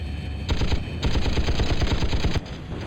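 Gun towers in Battlezone 98 Redux unleash rapid automatic fire at attacking units, a dense, loud stream of shots that starts, pauses briefly, then resumes for about two seconds before cutting off.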